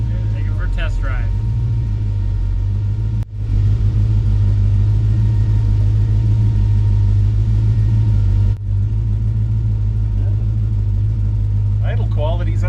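A 1957 car's engine rumbles steadily at a low idle throughout, loud and close, with two brief dips in level and faint speech at the start and end.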